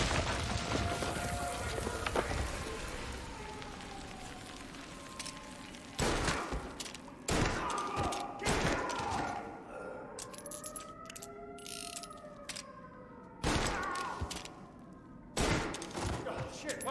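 Gunfire in Mafia: Definitive Edition, several sharp bursts of shots spread across the scene with gaps between them, mixed with mechanical clatter and a wailing tone.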